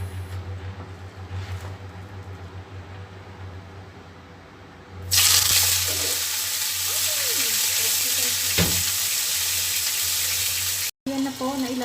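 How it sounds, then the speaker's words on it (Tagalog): Beef steak dropped into hot olive oil sets off a loud, bright, continuous sizzle that jumps up midway after a quieter kitchen hum, holds steady with faint background talk, and cuts out briefly near the end. "Yan na po, nailagay na po natin ang ating steak."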